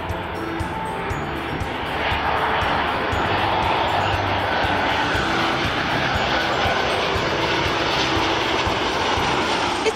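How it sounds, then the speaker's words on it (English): Ryanair passenger jet flying overhead near an outdoor pub garden, a steady broad engine roar that holds loud and constant throughout. "Ryanair from Milan."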